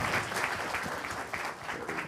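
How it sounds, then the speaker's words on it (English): An audience at a valedictory event gives a round of applause, a dense wash of many hands clapping at once, fairly soft and distant and steady throughout the short stretch. "Give him one more round of applause,"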